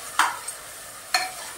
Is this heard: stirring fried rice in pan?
yes